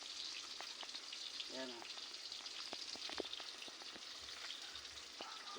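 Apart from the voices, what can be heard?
bananas frying in pan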